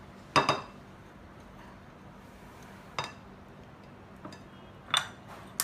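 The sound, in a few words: scooping coconut oil with a spatula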